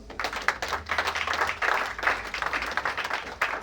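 A church congregation claps steadily and vigorously throughout, a dense, continuous patter of many hands acclaiming the Lord during a sermon.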